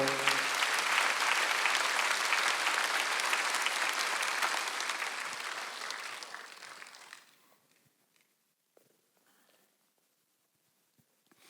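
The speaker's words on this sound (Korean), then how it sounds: "박수 좀 쳐요." Congregation at a Sunday church service applauding together, a dense steady wash of clapping that fades out after about seven seconds, leaving near silence with a few faint scattered sounds.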